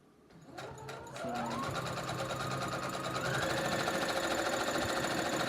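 A sewing machine stitches fabric for a beach tote, starting with a few clicks, then running at a fast, steady whir that stays loud and close.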